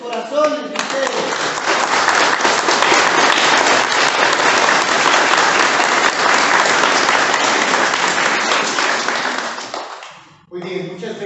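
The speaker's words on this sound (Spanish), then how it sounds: "Quiero pedir unas palmas muy fuertes por Kelvin Joel" Loud, sustained applause from a memorial gathering for Kelvin Joel, dense clapping lasting about ten seconds before breaking off, with brief voices at the end.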